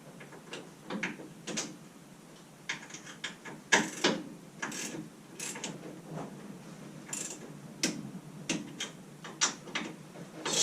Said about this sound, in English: It's a strangely satisfying noise, that clunk of a torque wrench